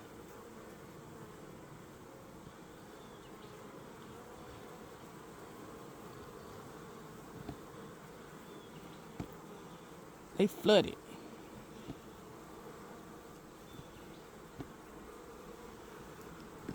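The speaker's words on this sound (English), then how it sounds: "Looking through all the bees." Honey bees buzzing inside an open hive during an inspection, a steady low drone throughout with a brief louder burst midway and a few words spoken over it.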